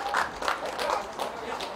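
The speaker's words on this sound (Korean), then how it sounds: "큰 박수로 환영해 주시기 바랍니다." An audience claps to welcome a speaker at an outdoor busking event, a short burst of scattered, uneven hand claps that is fairly close and has no talk over it.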